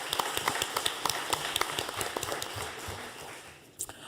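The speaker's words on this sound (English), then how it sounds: "let's give him a round of applause" Scattered hand claps from a modest audience at a school board meeting patter at a moderate distance, then thin out and fade toward the end, with one last short burst of claps.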